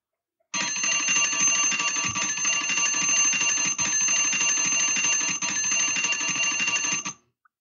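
A washing machine's electric signal bell rings loudly and continuously for about six and a half seconds, a harsh steady metallic rattle with no voices, then cuts off.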